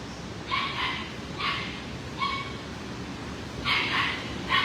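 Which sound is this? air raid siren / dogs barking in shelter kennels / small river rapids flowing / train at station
dogs barking in shelter kennels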